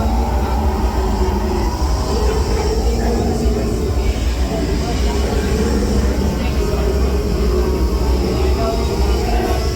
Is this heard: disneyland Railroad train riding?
yes